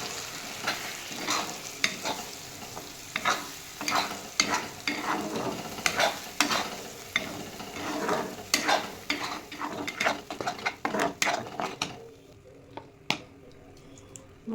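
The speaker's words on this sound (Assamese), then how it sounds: "আমি পেষ্ট কৰি থোৱা মটৰখিনি তাত ঢালি দিলোঁ আৰু ভালকৈ ভাজি ল'লোঁ।" Pea paste frying with spices in a pan is stirred briskly, giving close scraping and squishing strokes over a steady sizzle, then the sound thins to occasional scrapes near the end.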